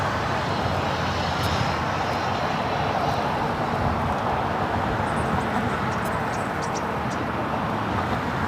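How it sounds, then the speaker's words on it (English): A United Airlines Boeing 777-200ER arriving on a north side runway at LAX, a steady broad jet roar that holds loud and even throughout with no pauses. "United Airlines flight 1662. It's a 777-200ER. It's a north side arrival."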